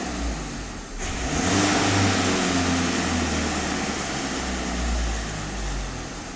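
A VW Caddy 2.0 TDI diesel engine holds a steady rev around 2900 rpm during DPF and EGR system cleaning, a loud continuous drone with a low hum and faint hiss, no voices.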